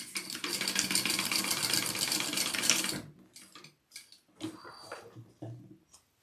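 A sewing machine stitching an AnnaBelle shoulder bag runs in a fast, steady mechanical whir for about three seconds, then stops, followed by scattered handling knocks and clicks.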